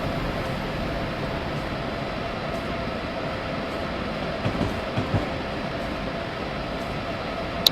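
An Amtrak passenger train meets and passes another Amtrak train near a bridge in Train Simulator 2015, giving a continuous rolling rumble with faint rhythmic rail clicks at moderate, even volume.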